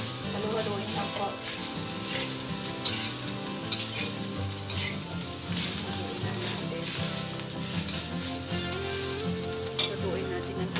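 Shrimp and pork fried rice sizzles steadily in a hot pan, a loud continuous frying hiss with occasional scraping as it is stirred.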